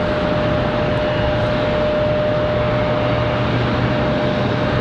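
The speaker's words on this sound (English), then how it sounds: "So we're about to have a 777 departure." A Boeing 777 departing Charlotte Douglas airport gives a steady, loud, broadband jet roar with a faint sustained tone, constant throughout with no voices.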